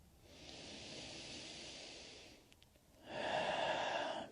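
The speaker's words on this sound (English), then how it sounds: "Slow, deep inhale, slow, deep exhale." Slow, deep breaths during a back care yoga class: a long soft airy exhale fades out, a short pause, then a stronger, rougher breath, close and quiet with no talk.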